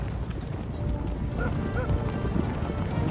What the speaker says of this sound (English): I like that horse in the right, kind of being uneasy.